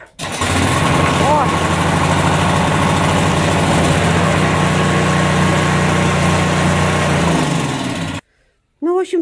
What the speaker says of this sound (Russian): Ну, в общем, трактор завелся.